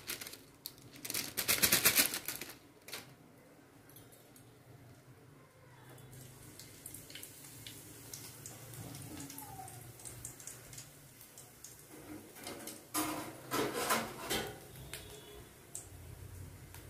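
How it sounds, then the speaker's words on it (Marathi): Cumin seeds crackling in hot oil, with a loud burst of rapid spattering pops at first, a quieter stretch of light sizzle in the middle, then renewed crackling near the end. "जिरे हे झाले तडतडले."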